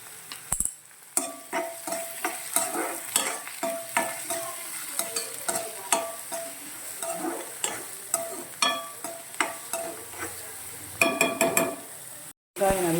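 Onions and curry leaves fry in a pan for a drumstick kootu, giving a steady sizzle broken by frequent scraping stirs with a spoon, close and fairly loud, with no talk.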